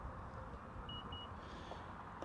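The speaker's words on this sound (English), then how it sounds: "And so what happens is we hold that and we listen for all the beeps." Two short, clear electronic beeps from a 2024 Acura RDX A-Spec power tailgate as its height setting is stored, sounding close over a low steady background hum.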